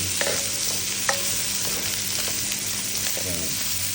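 Onion sautéing in a hot pan until transparent, a loud unbroken hissing sizzle with a few light spatula scrapes and taps, close and steady throughout.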